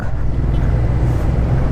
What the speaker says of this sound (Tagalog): Ayan, mga truck.